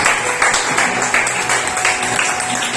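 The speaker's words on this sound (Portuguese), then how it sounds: "Dá uma salva de palmas para Jesus." A church congregation applauds during a worship service, a loud, dense clapping that rolls on steadily for a few seconds.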